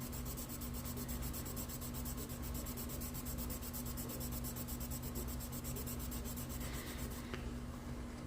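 Steady rubbing scrape of wet sanding with 600-grit paper on a rusty Chevy truck body, a continuous close texture running throughout with no talk.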